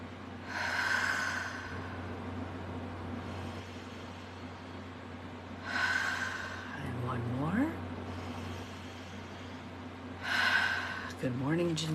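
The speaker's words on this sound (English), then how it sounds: "So let's do a little more breathing" Deep breathing exercise in an early morning guidance session: three slow, drawn-out breaths spaced several seconds apart, soft and close, over a steady low background hum with brief vocal murmurs.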